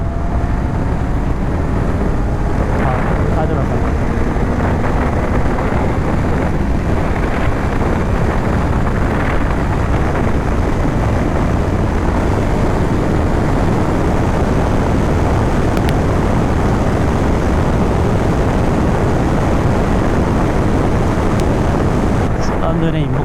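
Yamaha XJ6 motorcycle engine droning steadily while riding and downshifting, the rumble mixed with heavy wind buffeting the microphone and road noise throughout; someone talks at times over it.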